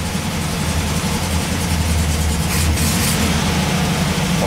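A 1967 VW bus engine idles after a cold start following a year of sitting, a steady low rumble that holds close and even throughout with no talk.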